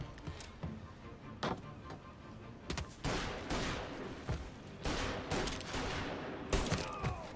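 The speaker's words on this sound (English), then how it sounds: "I shot him in the head." Rapid bursts of gunfire from a shootout in the video game Mafia: Definitive Edition, loud sharp cracks coming in clustered volleys with brief gaps, some reverberant tails, and no talking.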